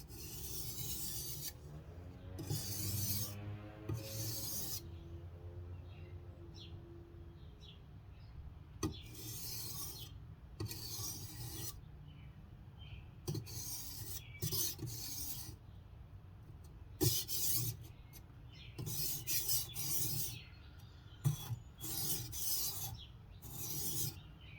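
A knife blade is rubbed back and forth on a grit sharpening stone, producing repeated raspy scraping strokes in uneven bursts, close and fairly quiet, with no talk.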